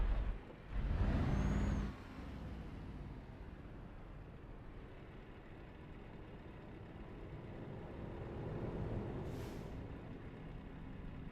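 In a Euro Truck Simulator game, a truck's air brakes let out one loud, close hiss at a red light. A fainter release follows later over a steady low engine rumble.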